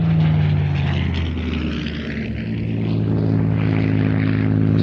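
Spitfire propeller aircraft with red-star markings, engine droning steadily and loudly throughout, a deep sustained hum with a slight dip in the middle, no talking.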